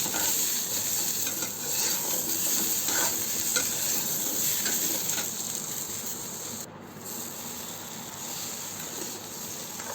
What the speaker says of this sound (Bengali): আমার আলুগুলো ভাজা হয়ে গিয়েছে, এখন আমি আলুগুলো তুলে নেব।